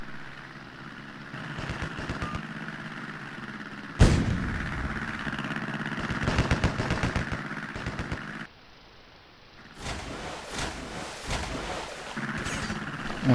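Battleship guns fire in a naval combat game as repeated booming salvos with rumbling engine noise beneath, including a sharp loud blast partway through and bursts of clattering fire that cut in and out.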